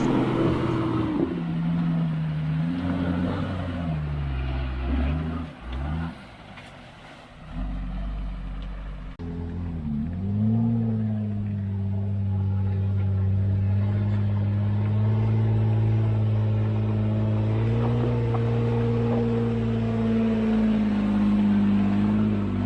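A Toyota Land Cruiser on 38-inch tires with unlocked differentials crawls off-road at an off-road park, its engine revving up and down close by, briefly dipping low before settling into a sustained loud drone.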